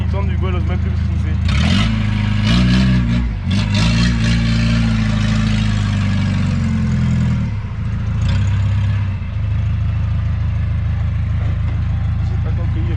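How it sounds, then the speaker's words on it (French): A car engine runs steadily under a voice and other talk, a low continuous hum throughout, with a brief surge early on. "il y a le moteur qui tourne"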